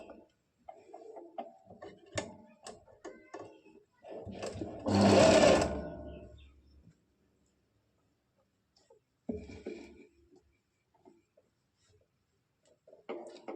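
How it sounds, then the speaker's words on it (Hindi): A sewing machine stitches cut fabric pieces for an elastic palazzo, a short close burst of rapid mechanical clatter around the middle, surrounded by quiet handling noises and brief faint talk. "इस पर हम सिलाई लगा देंगे"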